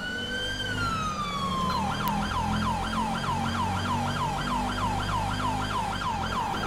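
A police siren in the video game mod LSPDFR wails, then switches to a fast repeating yelp, loud and continuous over a low engine rumble.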